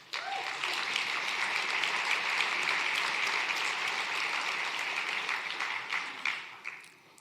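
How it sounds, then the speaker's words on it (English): A large audience at an energy-efficiency summit plenary applauds steadily for several seconds, a loud continuous clapping wash that thins and tapers off with a few scattered claps at the end. "So let's give all of these folks a round of applause."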